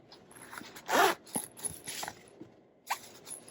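A zipper on the hidden pocket of a fabric Nooga hip bag gives a few short, dry zips close by, with the longest pull near the one-second mark and smaller rasps after it in otherwise quiet surroundings.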